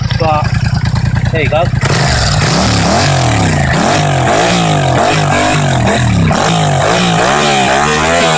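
A Yamaha MT-07 motorcycle fitted with a cut Akrapovic exhaust idles with a rapid throb, then gets revved hard in repeated loud bursts, close up, with someone speaking briefly over it.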